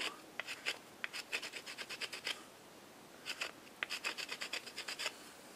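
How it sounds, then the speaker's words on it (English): A notch is ground by hand into a wooden bow drill piece using no modern tools. Quick, rhythmic scraping strokes come in two bursts separated by a short pause, close and fairly quiet, with no talking. "And I have to grind a notch in that as well."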